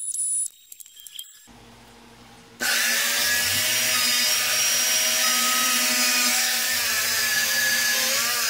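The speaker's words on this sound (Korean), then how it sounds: "트리머를 이용해서 모접기를 살짝 해줍니다." A power trimmer routes a light chamfer along the edges of a wooden piece for a tetrahedron lamp: after a quiet start with faint handling noises, the motor kicks in loudly and whines steadily to the end.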